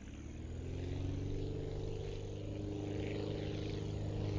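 Propeller airplane engine in a flying game throttling up, a steady droning buzz with layered harmonic tones that grows slightly louder and holds, with no voices.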